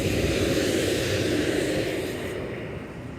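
A Mirage jet aircraft passes overhead on a cloudy day, its engine a loud, steady broadband roar that fills the whole stretch and tapers off slightly toward the end, with no voices.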